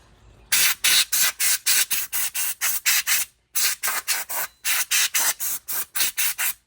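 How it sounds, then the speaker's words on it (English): Brake cleaner sprays onto car brakes in a quick series of about twenty short, sharp hissing bursts, close and loud, grouped in three runs with brief pauses between them. "I'm going to spray a little bit of brake clean in here"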